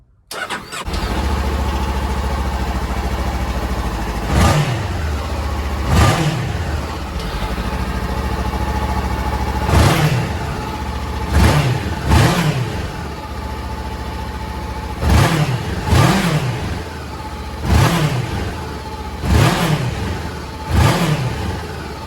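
A Honda CBR500R motorcycle engine fitted with a K&N air filter idles steadily and is revved repeatedly, sharp throttle blips rising and falling in an uneven rhythm, loud and close.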